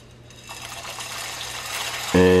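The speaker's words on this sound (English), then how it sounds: "what I'm going to do is add the macaroni" Dry macaroni goes into a pot of water at a rolling boil, and a rushing, bubbling hiss swells steadily, close and fairly loud, ending in a sudden loud steady hum.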